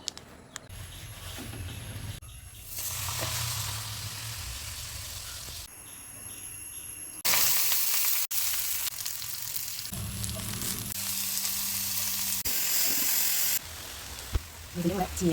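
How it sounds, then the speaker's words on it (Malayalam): Pappadam frying in hot oil for a Malabar-style meal, a steady crackling sizzle that swells and fades in bursts, with a faint low hum beneath. "പപ്പടം പൊരിച്ചെടുക്കാം"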